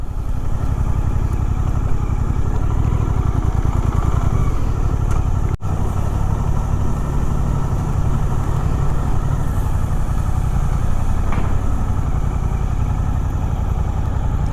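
A Suzuki GSX-8R motorcycle engine lugs at low rpm in first gear while climbing an incline, a loud, steady, close rumble that runs unbroken throughout with no talking.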